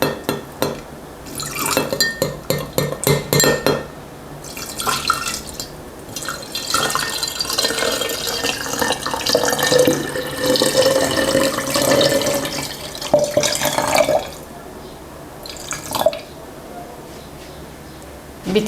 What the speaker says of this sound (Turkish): Yarım litre su ilave ediyorum.